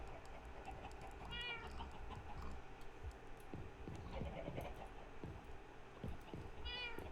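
Minecraft cats meowing in a video game, two short distinct meows several seconds apart over a faint steady background hum, fairly quiet.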